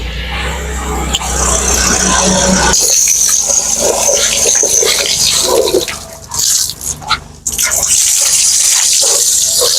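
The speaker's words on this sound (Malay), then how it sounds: "Sekarang bilas dengan air." Water rinses a Myvi car air conditioner during a DIY service, a loud close gush and splash that shifts and breaks up partway through, then resumes as a steady spray.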